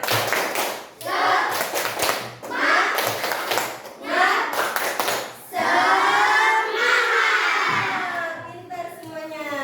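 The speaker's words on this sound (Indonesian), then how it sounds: "Sebelum itu makanya kita tepuk semangat dulu yuk. Tepuk semangat." A classroom of children performs a 'tepuk semangat' spirit clapping routine, with bursts of rhythmic group clapping mixed with loud chanting voices that swell into a sustained shout near the end.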